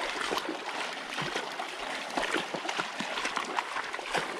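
Boots wading through the cold water of an underground river deep in a mine, with steady splashing and sloshing as legs push through the current, close and continuous, with small trickles.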